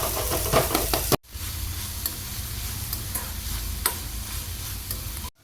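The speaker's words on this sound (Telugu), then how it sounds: "ఇప్పుడు ఆయిల్ వేసుకుని ఈ రొయ్యలు కూడా వేపుకుందాం." Dry prawns frying in oil in a pan, with a loud close sizzle and scraping stirs, cut by a sharp break and then resuming steadily.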